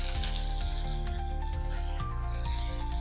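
Cumin seeds sizzle and crackle in hot ghee as a tempering for a peanut amti, a steady, close, loud frying hiss throughout with small pops.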